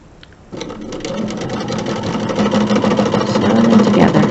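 A sewing machine stitching quilt rectangles together for a flying geese block, starting abruptly with a close, steady rapid mechanical whir that holds and grows slightly louder as it runs.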